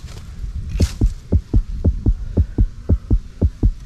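The heartbeat of a giant 100 kg python thumps in a steady, regular rhythm of about a dozen low, muffled beats, close and distinct against a dull background hum.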